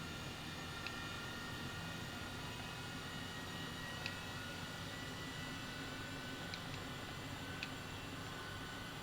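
Steady broadband rotor and engine drone from a helicopter descending over London in Flight Simulator 2020, a constant even wash at moderate level with no voices, a few faint high clicks scattered through.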